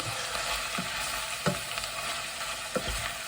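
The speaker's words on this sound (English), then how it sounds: "Just give it a mix round, like so." Food frying in a pan with a little Worcester sauce is stirred round, a steady close sizzle with a few scraping clunks of the spoon, and no talking.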